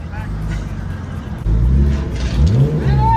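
A Nissan Skyline's engine rumbles low and steady, then surges and revs higher, with a rising whine near the end and voices in the background.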